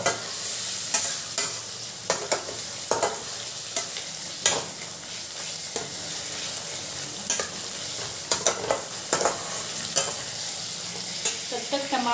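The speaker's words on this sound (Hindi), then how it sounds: "टमाटर और प्याज को कुछ सेकंड भून देंगे, फ्लेम को हाई रखेंगे" Tomato and onion fry over a high flame while a spoon stirs them, so a steady close sizzle is broken by repeated scraping and clattering strokes against the pan.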